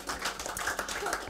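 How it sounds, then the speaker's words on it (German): A talk-show audience in Dinslaken claps for the technicians, a dense, steady burst of applause lasting just over a second. "Applaus nochmal an Jens und auch an Patrick"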